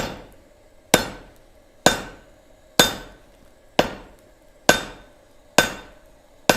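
Hammer blows forging a taper on hot steel at an anvil, seven sharp ringing strikes spaced roughly a second apart, each decaying quickly, close and loud with no voices.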